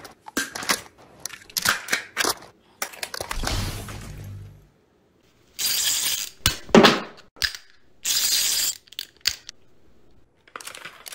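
Household items are clicked, snapped, scraped and shaken to mimic video game weapon reloads, giving sharp close clacks and rattles broken by bursts of rustling noise and short pauses.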